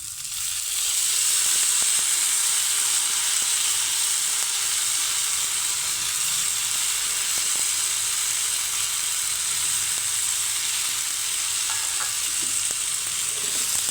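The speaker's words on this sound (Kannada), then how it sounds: "ಇದು ಎಣ್ಣೆಯಲ್ಲಿ ಚೆನ್ನಾಗಿ ಫ್ರೈ ಆಗಿದೆ. ಈಗ ನಾನು ನೆನೆಸಿಟ್ಟಿರುವಂತಹ ಬೇಳೆನ ಹಾಕ್ಕೊಳ್ತಾ ಇದ್ದೀನಿ" Soaked dal lentils hitting hot oil in a pan for a ridge gourd stir-fry, giving a loud, steady sizzle and hiss that holds evenly throughout with faint stirring underneath.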